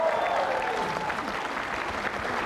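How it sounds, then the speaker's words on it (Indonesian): An audience claps for Prof. Yohanes Surya, a steady round of applause lasting a couple of seconds, with a faint voice mixed under the clapping. "Tepuk tangan dong buat Prof."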